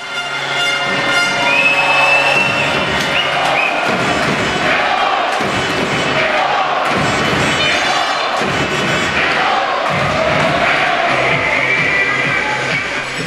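A packed ice rink crowd roars after an early goal in a Bracknell Bees versus Peterborough Phantoms hockey game, loud sustained cheering and shouting with thumping drums and horn-like tones mixed in throughout.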